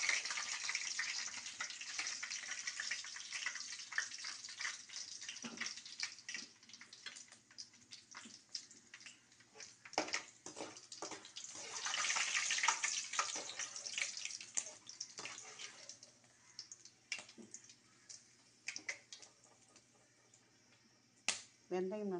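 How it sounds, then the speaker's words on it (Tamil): Fenugreek seeds frying in hot oil with a little pepper and cumin, giving a steady, close crackling hiss with small pops that rises and falls throughout. "வெந்தயம் நன்றாக பொரிய வேண்டும்."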